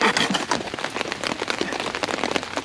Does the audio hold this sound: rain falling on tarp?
yes